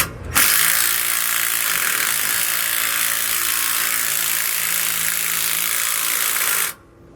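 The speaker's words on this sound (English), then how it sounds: "I'm going to use a 9/16 wrench to hold the nut and a 7/32 to tighten up that button head screw" A steady whirring, buzzy mechanical drone runs for several seconds and stops abruptly, from a tool tightening a button head screw on a rear anti-sway bar, with no talking.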